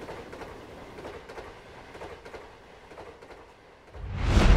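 A train rolls along the rails with a steady rhythmic clickety-clack of wheels over track joints, moderately loud, before a louder rushing swell builds at the end.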